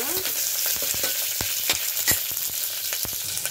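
Red chillies fry in hot oil in a pan for a brinjal curry, giving a constant bright sizzle dotted with sharp crackles and pops, close and fairly loud, with no voices.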